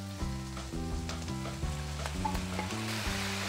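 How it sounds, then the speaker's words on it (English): Tomatoes sizzling in hot oil with onions for a Taiwanese beef stew, a loud, steady sizzle with stirring scrapes and a faint tonal hum underneath. "This is the perfect timing that you just wanna put in your tomatoes."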